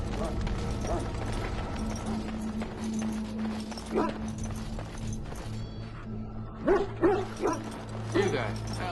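Kennel hounds in Dragon Age Origins, some sick from Darkspawn blood, barking and yipping in short bursts that grow louder toward the end, under a steady hum and game ambience with a voice speaking.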